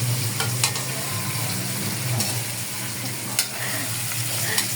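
Fish sizzles and frying crackles steadily in a hot pan for a sautéed fish and vegetable dish, with a few sharp stirring scrapes cutting through the continuous close, loud hiss.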